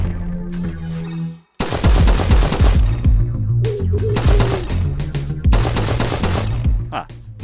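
Gunfire from the Flashback video game bursts out in loud, rapid repeated shots over a droning game soundtrack, after a brief silence near the start.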